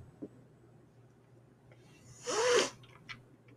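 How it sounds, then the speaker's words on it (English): A single sharp sneeze bursts out near the close, preceded by a quiet breath against a faint, steady room hum. "Oh gosh, I gotta sneeze."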